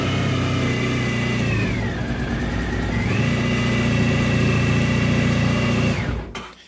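A Honda ST1100 Pan-European motorcycle runs alone at close range with a steady four-cylinder drone, dipping briefly around the two-second mark, then rising and holding before it cuts off abruptly near the end.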